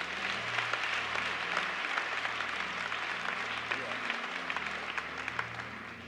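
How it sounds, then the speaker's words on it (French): Congregation applause at a church service led by a pastor, a steady wash of many hands clapping at moderate loudness throughout, with a low tonal hum or music bed and voices faintly underneath. "Applaudis l'Éternel des âmes."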